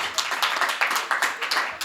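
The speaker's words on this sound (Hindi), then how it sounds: "एक बार तालियां हो जाएं जोरदार।" Audience applause at a Hindi poetry gathering (kavi sammelan), a brisk burst of many hands clapping in quick uneven rhythm, close and steady, with no talk over it.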